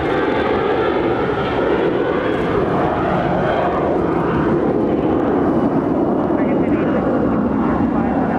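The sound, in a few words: Air Canada airliner taking off from LAX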